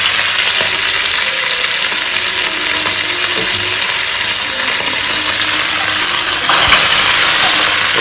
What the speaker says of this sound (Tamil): இதில் இந்த மூளையை ஃப்ரை பண்ணி எடுக்கிறோம்